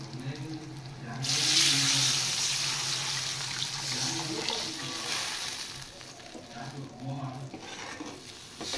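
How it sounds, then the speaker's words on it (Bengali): Water pours into a pot of sizzling fish curry base with turmeric, a hiss and bubbling wash that swells loudly then settles under stirring and frying sounds. "এবার আমি দিয়ে দেব জল।"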